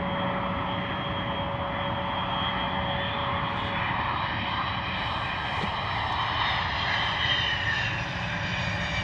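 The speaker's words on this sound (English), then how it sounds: "Wow, beautiful touchdown from DHL." A DHL cargo jet lands, its engines a loud steady roar with a high whine, sustained throughout with little rise from reverse thrust.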